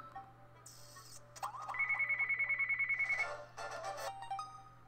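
A phone ringtone chirps and trills in a repeated electronic pattern for a few seconds, loud and close over a low steady hum, with no one talking.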